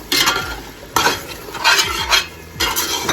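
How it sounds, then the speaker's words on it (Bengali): Spice masala for chicken pulao being stirred and fried in a pot: loud, close scraping strokes of a spatula over a steady sizzle, in a few repeated sweeps with no voices. "ভালো করে নেড়ে মশলাটা কষিয়ে নিতে হবে।"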